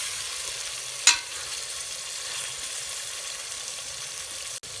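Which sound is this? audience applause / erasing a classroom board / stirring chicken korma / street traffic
stirring chicken korma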